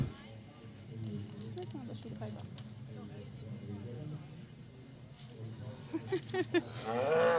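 Angus cattle lowing in a show ring, several deep moos under an announcer's voice over a public address system, with a busy crowd murmur behind.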